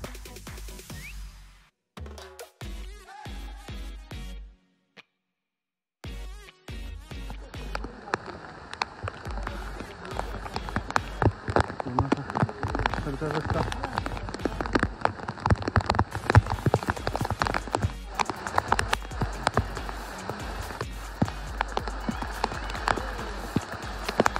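Heavy monsoon rain drums hard and continuously on surfaces on the Garbett Plateau near Matheran, with a low gusty rumble of wind underneath, after a few brief broken-up sounds at the start.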